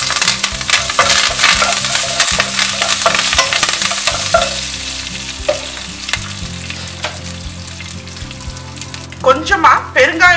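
Green chillies and curry leaves dropped into hot oil while making steamed rice balls: loud, continuous crackling sizzle close up, with a spoon clinking and stirring through it and sharper spatters near the end.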